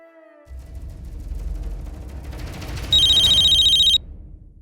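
A phone rings late at night indoors, one electronic ringtone burst of about a second, loud and close over low background rumble, with no talk.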